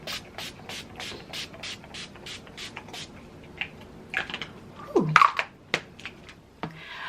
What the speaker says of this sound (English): I am going to lock everything down with Urban Decay's All Nighter